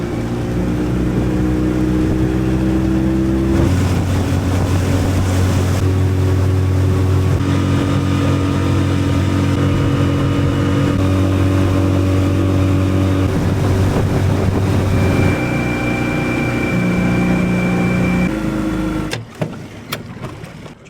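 A small boat's outboard motor drones loudly and continuously with its propeller raised, its pitch stepping between steady tones as the throttle shifts, before sputtering and cutting out at the very end.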